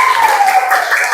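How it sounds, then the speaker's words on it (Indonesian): Students in a classroom clap for a group of classmates in a brief, dense burst of applause, close and fairly loud. "Coba tuh beri tepuk tangan untuk kelompoknya Akela."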